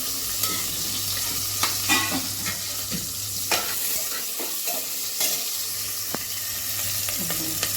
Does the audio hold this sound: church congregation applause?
no